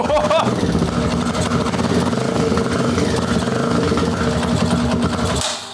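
A Kawasaki KLX140 dirt bike fitted with a 170cc big bore kit fires up and runs loud and close with a rough, choppy engine note, cutting off abruptly near the end.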